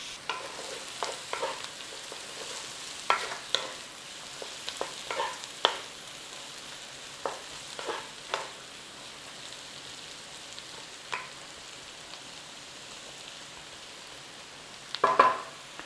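Onions frying quietly in a pan for cauliflower soup, a faint, steady sizzle with scattered soft clicks and scrapes of stirring throughout and a slightly louder clatter near the end.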